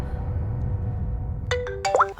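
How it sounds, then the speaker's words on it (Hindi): An electronic ringtone starts partway through, a few bright tonal beeps and chirps rising over a dull, rumbling background. "मयंक का फोन होगा।"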